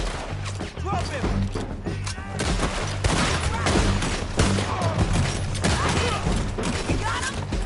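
Dense, sustained gunfire in the Red Dead Redemption 2 video game, continuous bursts of shots over a steady low rumble, with shouted voices mixed in.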